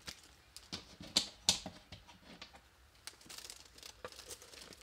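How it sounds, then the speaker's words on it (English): Scissors trim shrunk covering film from the edge of a wooden model aircraft wing, giving quiet close-up snips and crinkles in irregular bursts with no talking. "we're just going to trim that off with some scissors"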